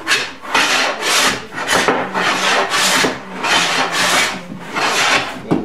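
Rhythmic rasping strokes of a hand plane across a cherry wood tabletop, about a dozen steady back-and-forth passes, close and loud.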